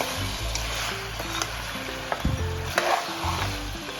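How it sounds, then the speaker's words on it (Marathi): Steady sizzling of Kolhapuri-style head meat frying in hot oil for five minutes, loud and close, with occasional stirring clatter and low hum underneath. "तेलामध्ये अगदी 5 मिनिट फ्राय करून घेतले।"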